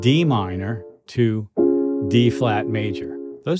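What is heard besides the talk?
None of the usual background noises is heard.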